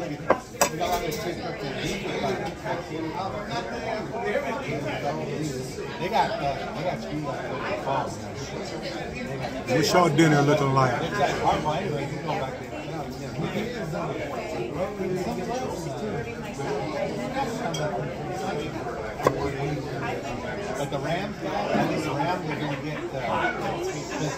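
Busy restaurant ambience at the Green Onion, with steady crowd chatter and overlapping voices under frequent clinks of dishes and cutlery, moderately loud and continuous throughout.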